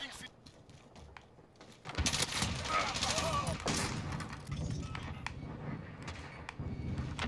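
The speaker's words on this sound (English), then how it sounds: "They start shooting at each other" Automatic rifle fire from an M4A1 in the video game Modern Warfare: a dense, loud fusillade of shots breaks out after a quieter start and keeps rattling steadily to the end amid battle noise.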